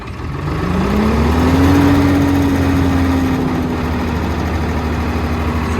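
A loud Swaraj 969 4WD tractor engine drones steadily nearby, its pitch rising as it revs up to about 1600 rpm and then settling into an even, continuous running hum.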